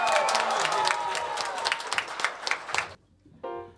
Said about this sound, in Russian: Аплодисменты второму Михаилу.